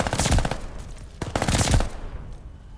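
Armaguerra 43 submachine gun firing in Call of Duty Vanguard: two rapid, loud full-auto bursts separated by a short pause, the second ending with a fading tail.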